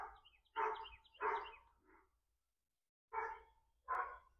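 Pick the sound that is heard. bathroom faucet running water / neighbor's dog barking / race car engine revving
neighbor's dog barking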